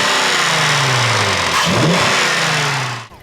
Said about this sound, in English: it's basically a custom intake that, believe it or not, actually sounds pretty good